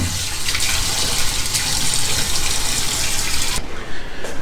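Water from a pot of boiled potatoes pouring into a sink as it drains, a steady loud rushing gush that continues for several seconds before thinning out near the end.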